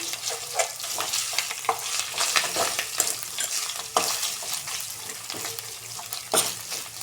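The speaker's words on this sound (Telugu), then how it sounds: "అల్లం వెల్లుల్లి పేస్ట్ కొంచెం ఫ్రై అయితే సరిపోతుంది" Onion, curry leaves and ginger garlic paste frying in a pan while being stirred for quick spicy rice, with a steady close sizzle broken by repeated scraping stirs.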